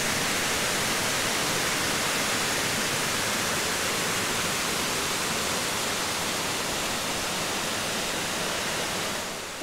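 A waterfall in the Huasteca Potosina, Mexico, roars in a steady, broad wash of rushing water, loud and unbroken, easing slightly at the very end.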